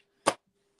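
Ribbon scissors make one quick, crisp snip through ribbon during a card-making session, a single short cut in an otherwise quiet room.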